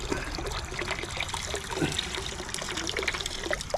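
Water trickles and drips steadily from a small, clogged pond pump lifted out of a pond, a close, soft, continuous dribbling with scattered droplet splashes.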